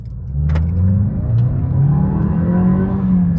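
A Toyota Glanza with a 1.2 litre engine accelerating hard from standstill, its steady loud engine note climbing in pitch through the gears without a break, close and continuous.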